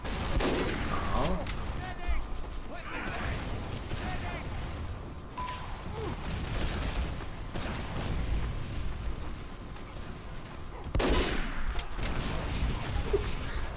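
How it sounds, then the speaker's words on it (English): Video game combat fills the scene with an airstrike and gunfire: dense bursts of shots and booming blasts crackle and roll throughout, loud and chaotic, with players talking over the action. "Oh my god, airstrike."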